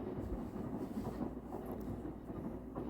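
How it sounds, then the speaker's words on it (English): A passing train gives a steady low rumble that holds throughout, fairly quiet and distant, with no voices over it. "and there's a train passing."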